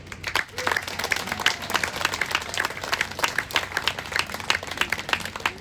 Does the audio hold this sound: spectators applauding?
yes